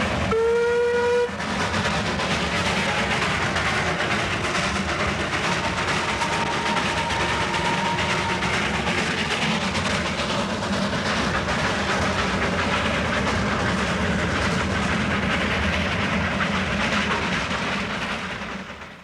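A B-class steam locomotive on the Himalayan toy train sounds a short whistle blast at the start. It then chuffs and rumbles continuously along the mountain railway, loud and close, fading slightly at the very end.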